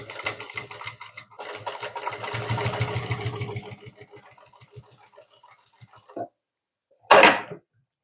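A sewing machine stitches pleats on a ready-to-wear saree in a few rapid runs that slow and trail off, followed by a short clack and a sharp scrape; close and fairly quiet, no talking.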